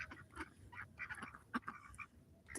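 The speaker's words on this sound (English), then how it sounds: "watching the ducks eat." Ducks feeding on barley and corn give soft, scattered quacks at close range, short calls coming in quick irregular bursts over quiet background.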